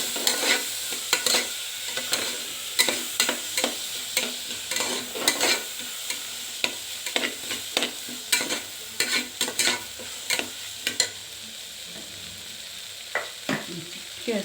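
Rice being stir-fried in a pan for jeera rice, with repeated close scraping strokes of a spatula in an irregular rhythm over a soft, continuous sizzle.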